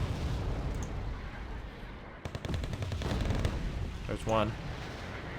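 Artillery and gunfire in the war strategy game Wargame: Red Dragon, a constant rumbling battle din with scattered sharp shots and bursts, someone speaking briefly over it.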